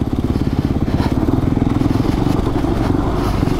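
A dirt bike ridden along a dirt trail, its engine chugging loudly and close in a fast, continuous pulsing beat.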